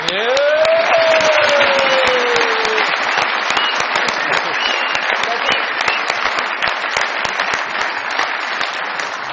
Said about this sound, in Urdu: بہت ساری تالیوں میں ویلکم کیجیے گا محترمہ صبا حمید صاحبہ